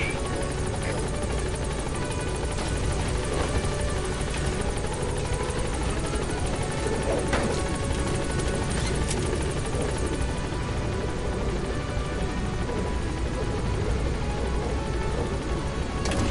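Pequod, the helicopter in Metal Gear Solid V, arriving in a steady, loud, close rotor roar with an engine whine, continuous throughout and without any voices.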